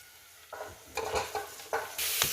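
Meat goes into browned onions in a pot for achari chicken, a few soft sizzling bursts and stirring scrapes, close and fairly quiet, no talk.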